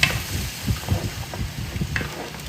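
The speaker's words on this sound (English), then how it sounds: "Give it a stir" A spoon stirring a pot of simmering sauce for spaghetti and meatballs, soft scraping swishes over a low bubbling hiss, close and steady for a couple of seconds, with no talking.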